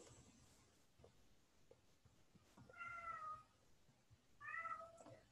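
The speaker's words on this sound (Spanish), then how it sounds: "tengo un gatito acá que me está hablando" A small kitten meows indoors, two clear drawn-out meows spaced a couple of seconds apart, quiet and close, over a faint background with light tapping.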